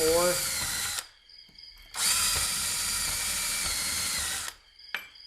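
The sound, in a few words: drilling with a unibit step drill bit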